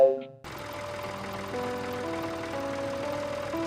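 A tractor engine in an animated Telugu story starts after a brief opening sound, then settles into a steady, moderately loud idle with a low chugging pulse and humming overtones.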